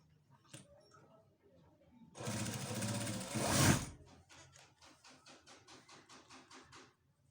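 A sewing machine stitching fabric for a child's shalwar, heard as a loud, dense run of stitching followed by a series of short, evenly spaced mechanical bursts, with faint handling noises at the start.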